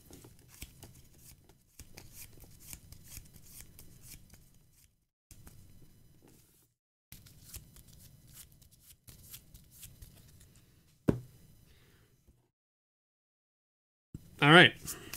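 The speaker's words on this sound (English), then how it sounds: "So let me just shuffle these up here." Soft papery riffling of Magic: The Gathering cards comes in several bursts, with brief pauses between, close and fairly quiet, ending in a sharp snap and a short rustle.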